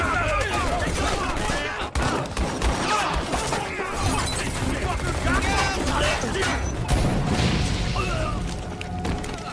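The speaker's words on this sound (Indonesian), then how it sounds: "sehingga terjadilah baku tembak." Rapid bursts of gunfire and crashing impacts fill a chaotic shootout, with shouting voices mixed into the din.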